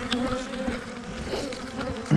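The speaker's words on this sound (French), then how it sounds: "Il y a encore plein des abeilles." Honeybees from a swarm buzz continuously around, a dense, close droning hum with individual bees passing nearby.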